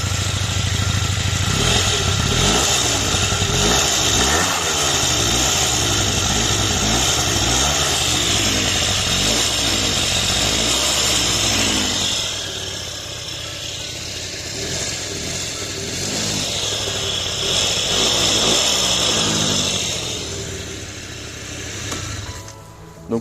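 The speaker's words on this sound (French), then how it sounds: "Donc voilà les gars le bruit qu'il fait." A scooter engine runs loudly and steadily close by, with a rough, buzzing idle that rises and falls as the throttle is blipped, easing off partway through before revving up again; no talking.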